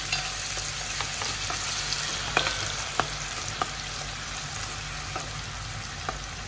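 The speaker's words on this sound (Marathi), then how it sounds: "कांदा आता थोडा परतवून घेऊ आपण।" Finely chopped onion sautéing in a pan for spicy Kolhapuri misal, a constant close sizzle with a few sharp ticks and clicks of the spatula scattered through it, no talking.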